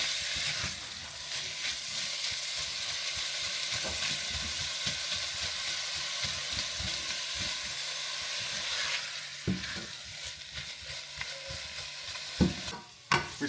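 About 500 grams of pork fries in a hot pan, a loud steady sizzle with repeated scraping stirs, easing off toward the end with a few sharper clinks.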